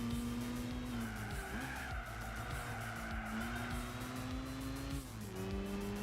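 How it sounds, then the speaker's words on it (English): Turbocharged TVR Griffith engine in Gran Turismo 4, a revving note that rises and drops with gear changes, mixed with repeated tire squeals and skids as the car is pushed hard through corners. "I love how the turbos sound in this"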